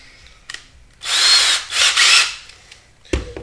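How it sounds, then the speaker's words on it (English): Power drill boring screw clearance holes in a Rock 'em Sock 'em Robots toy, two close, loud whirring bursts about a second each with a brief pause between, then a clunk. "we will use the drill to"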